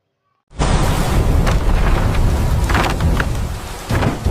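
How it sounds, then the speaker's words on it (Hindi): A storm sound effect bursts in after a moment of silence: dense, loud roaring rain with deep rumbling thunder that holds steady and swells again near the end. "बाहर तूफान है"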